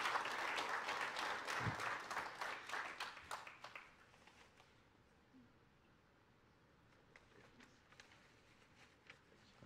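Applause from a church congregation after a graduating class is congratulated, a dense round of clapping that tapers off after a few seconds into scattered claps and quiet room noise.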